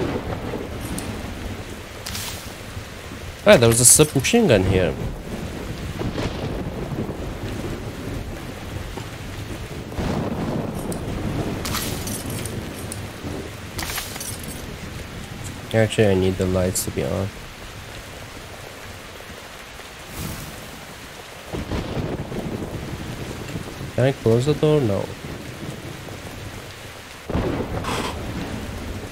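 Heavy rain and rolling thunder from a Metro Exodus thunderstorm run continuously behind someone talking, with several louder bursts and rumbles rising over the steady downpour.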